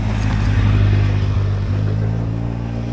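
Quad bike engine on a dusty road, a steady low rumbling drone with mild revving that stays loud and close throughout.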